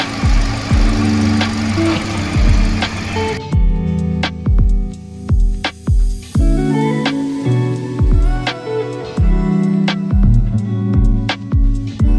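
A used Hyundai Grand i10 engine runs steadily with a low rumble and repeated knocking, clattering pulses, close by throughout, with a brief louder rev near the start.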